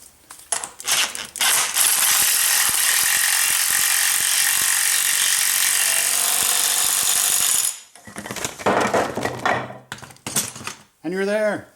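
An air ratchet or impact-style tool runs loud and continuous for several seconds, tightening a 1 1/8 nut on a 1999 Jeep Grand Cherokee transfer case, framed by metallic clinks and handling noises before and after.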